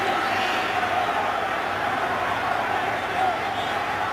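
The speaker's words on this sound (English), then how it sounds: "I'm not sure what describes this crowd at Heinz Field more, stunned or angry." The stadium crowd at Heinz Field in Pittsburgh roars in a dense, steady wash of voices at an NFL game, loud and unbroken under close talk.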